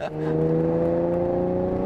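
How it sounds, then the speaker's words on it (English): Ferrari engine idling or running steadily, a close, even, buzzy hum with strong harmonic tones that holds throughout, with a brief voice at the very start. "we just listen to the noise of the engine"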